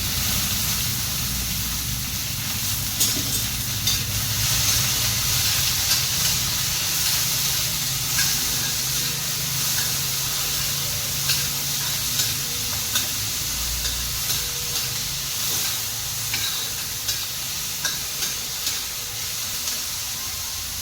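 Steady sizzling of onion and tomato frying in a pan, with occasional stirring scrapes and soft clicks throughout, fairly close and continuous, no voices.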